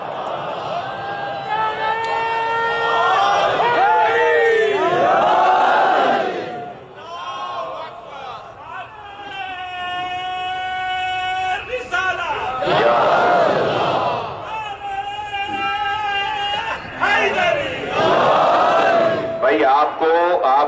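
At a Khatam-e-Nabuwwat religious gathering in Nishter Park, a large crowd chants a religious slogan back in loud, ringing unison. Several surging waves of voices answer a lead caller, with short lulls between them.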